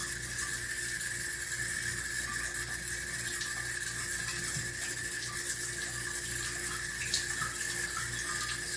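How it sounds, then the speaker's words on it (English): A sink faucet runs steadily for handwashing, a constant hissing stream of water with a faint whistling tone throughout, close and uninterrupted, with no talking. "the sink there, the water faucet, is actually higher"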